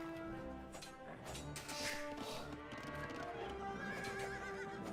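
Knights' horses in the strategy game Age of Empires 2 whinny and neigh in a quiet mix, with clip-clopping hooves and a faint game soundtrack beneath.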